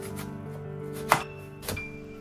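A knife slices through half a watermelon into thick slabs on a cutting board, two distinct cutting thunks over a steady background hum.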